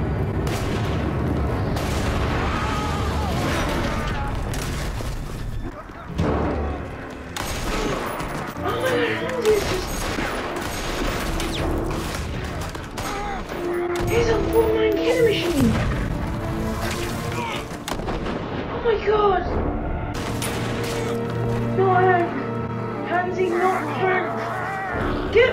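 Gunfire from a scene in the TV drama Fargo season 2 sounds as repeated booming shots and bursts, mixed with dramatic music, while people talk and react loudly over it throughout.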